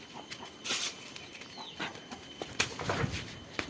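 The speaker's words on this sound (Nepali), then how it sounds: "कुखुराहरूले खान लागिसक्यो। अब कुखुराहरूलाई छोडिदिने हो यो।" Village chickens pecking at food give soft, scattered clucks and brief scratchy bursts, faint and intermittent against a quiet outdoor background.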